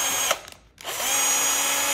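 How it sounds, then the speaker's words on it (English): An ALTOCRAFT 20V MAX cordless drill runs with a steady high whine, cuts out briefly, then spins back up and holds a loud, even drone up close with no talking. "I will not drill or screw without a cordless drill nowadays."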